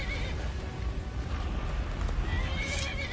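A horse in Skyrim whinnies and neighs loudly over a steady background of clip-clopping hooves, the sounds continuous and close throughout.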